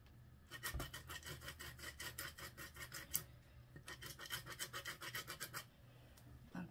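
Rhythmic rasping strokes of orange peel being grated for zest, a fast series of scratchy scrapes close up, pausing briefly midway, with no talking.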